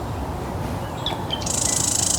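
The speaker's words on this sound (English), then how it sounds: "That's a marsh wren." A marsh wren sings outdoors, with a few thin notes and then a rapid buzzy trill that rises in loudness over steady background noise.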